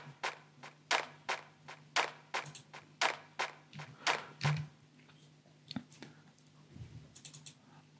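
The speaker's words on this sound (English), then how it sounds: "Also, I added 3 different types of claps and they sound like this." Three layered clap samples programmed in FL Studio for an Afro house track, sharp dry hits in a regular rhythm for about five seconds, then scattered quieter clicks and taps.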